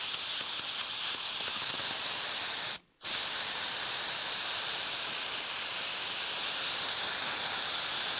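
Steady spray of high heat contact adhesive from a pressurised pot gun onto a porous surface, a loud continuous broadband hiss with one brief pause near three seconds before resuming.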